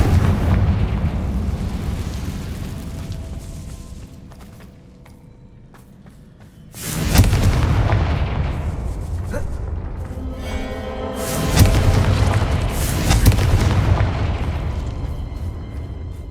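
Confringo fire-blast spell explosions in Hogwarts Legacy, with heavy booming blasts and rumbling debris, a quieter lull in the middle, then fresh loud bursts and crackling echoes.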